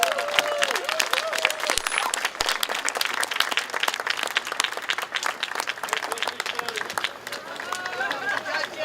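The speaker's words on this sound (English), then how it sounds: "Big round of applause," A crowd applauds at the San Francisco comfort women memorial unveiling ceremony for two judges, dense sustained clapping with scattered cheers and murmured voices, steady and loud throughout.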